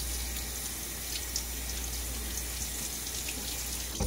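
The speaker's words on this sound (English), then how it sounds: "soap is easily rinsing from the head." A tap runs steadily as shaving soap is rinsed from the head of a Merkur Futur razor, a close, continuous rush of water with faint clinks near the end.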